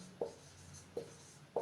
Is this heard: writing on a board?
yes